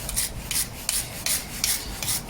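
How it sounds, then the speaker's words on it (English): Rotary wire wheel scrubbing black steel engine head bolts, a steady rasping grind pulsing in about six regular strokes, close and fairly loud with no talking. "Rotary wire wheel, just so it didn't take too much of the coating or whatever's on them off it."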